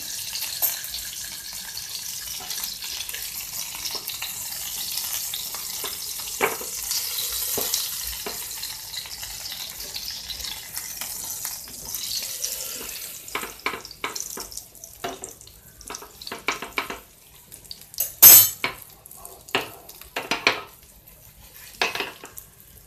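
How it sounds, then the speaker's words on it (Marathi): Mackerel (bangda) gently stir-fried in a pan over medium heat for an Agri-style masala fry, a soft steady sizzle joined later by scraping and clinking of a spatula against the pan in irregular bursts. "आपल्याला बांगडा आता अलगद परतायचा आहे."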